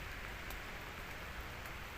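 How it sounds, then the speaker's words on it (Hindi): Heavy rain pours steadily in a dense, continuous hiss, close and enveloping, with no voices, at Unchalli Falls. "बस बारिश बहुत जोर है।"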